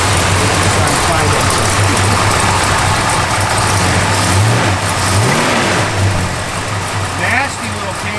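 A 1968 Plymouth Road Runner V8 with an aggressive cam idles loudly up close with a choppy, loping rumble, then blips its throttle in a few rising revs near the end.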